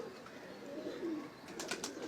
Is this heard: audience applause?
no